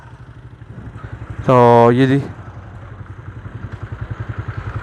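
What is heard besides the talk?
tractor turning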